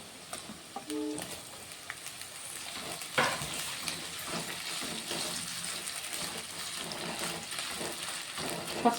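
Chopped onions and potatoes frying in a pan, a quiet continuous sizzle with occasional stirring scrapes and clinks, no voices.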